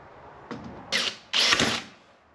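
A power drill bores holes in a plexiglass bonnet for a homemade loader, with a brief whir followed by two longer, louder bursts of whining, grinding drilling close by and no talk.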